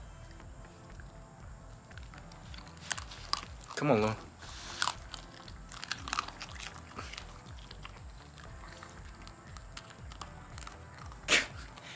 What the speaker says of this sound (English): It's so funny how they crunch on stuff like that.